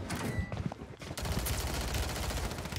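Rapid automatic gunfire from an MTZ 556 rifle in a Call of Duty Rebirth Island match, a loud burst, a brief gap, then a long unbroken stream of sharp, evenly spaced shots up close.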